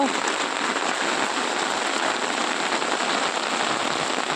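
Heavy rain pours down in Banaskantha during a thunderstorm, a dense, loud and unbroken hiss of drops drumming on surfaces throughout.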